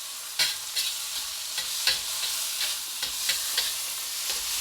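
Onions and shrimp paste sizzle steadily in a frying pan, with a constant hiss broken by repeated scraping clicks as the mixture is stirred, close and alone.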